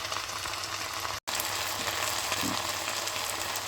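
Steady, loud sizzling of chicken frying in a hot pan, a constant crackling hiss broken by one brief silent cut.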